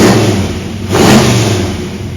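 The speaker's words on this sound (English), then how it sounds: "It has that muscle car idle, and yet it's responsive." A muscle car engine running close by, a rough low idle that swells into a short rev before settling back down.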